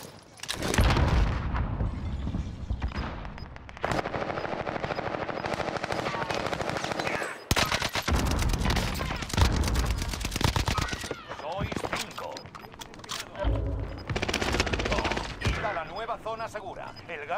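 Gunfire in a shooter video game, with repeated bursts of rapid shots and booming explosions over about seventeen seconds, under and between people talking.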